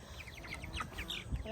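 A curious hen clucking and chirping close by, a quick series of short, soft high-pitched calls in rapid succession with faint background noise.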